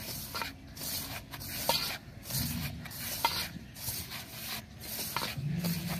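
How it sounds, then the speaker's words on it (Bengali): Hands knead panipuri flour dough with oil and salt in a bowl, making close, soft rubbing and rasping strokes in a steady, repeating rhythm with occasional light taps. "একটু সাদা তেল দেব, একটু লবণ দেব, দিয়ে সুন্দর করে মেখে নেব।"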